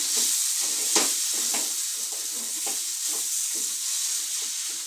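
Masala for bitter gourd kalonji sizzles and fries steadily in a pan, a continuous close crackling hiss with occasional stirring scrapes, no talking.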